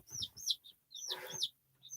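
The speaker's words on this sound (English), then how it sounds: "You do hear chicks in the back because those are little baby chickens that are probably 3 days" Baby chicks about three days old peep in quick bursts of high, thin calls, a few at a time with short pauses between, faint and in the background indoors, along with a brief low murmur.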